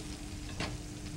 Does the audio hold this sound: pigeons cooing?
no